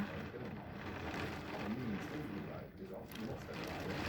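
Heavy rain pours down as a steady, dense hiss with faint gusts, heard fairly quietly and evenly throughout while someone talks over it.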